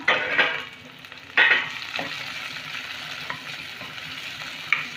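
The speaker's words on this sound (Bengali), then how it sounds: "একটা মিডিয়াম সাইজের টমেটো ছোট ছোট করে কেটে রেখেছি এটা দিলাম" Chopped medium tomato hitting hot oil with mashed green chilli for a Bengali egg curry: a loud scrape and stir, then a sustained close sizzle with occasional spoon knocks, and no one talking.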